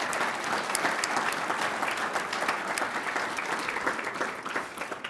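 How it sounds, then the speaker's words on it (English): Audience applause from a crowd at a chamber of commerce annual address, a dense steady clapping that carries on for several seconds and tapers slightly at the end. "Give them a big round of applause."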